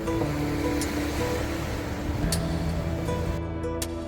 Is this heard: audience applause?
no